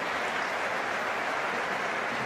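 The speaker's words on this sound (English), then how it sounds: "String of applause around Stamford Bridge for that Cole Palmer pass." A crowd at Stamford Bridge applauding during a Chelsea preseason football match, steady dense clapping at a moderate distance with no break.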